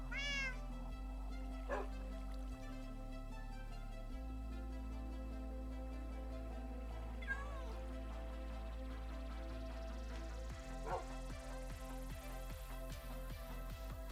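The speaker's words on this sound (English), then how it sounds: "Monster Kitty is just being noisy" Repeated cat meows in a Minecraft game, clear but fairly faint, over a steady droning background with no talk.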